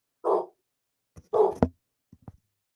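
A pet dog barks a few times close by indoors, short gruff woofs separated by pauses, followed by a couple of softer, clipped yips, with no other sound around them.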